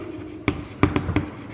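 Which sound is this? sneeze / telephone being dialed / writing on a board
writing on a board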